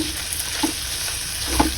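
Tuna flakes in oil and tofu get stirred in a frying pan, a soft sizzle running underneath two quick scraping strokes of the spoon against the pan.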